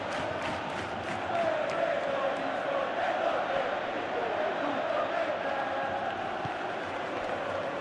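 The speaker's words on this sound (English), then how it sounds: "the crowd clearly like what they just saw" A stadium crowd in a PES 21 football video game (Inter Milan vs Liverpool) cheers and roars steadily at moderate distance, with a swelling tone and no clear speech.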